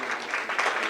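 An audience at a university lecture on ethnic, gender and transborder studies claps for introduced students, a brief burst of steady applause in a hall, fairly loud and without talk over it.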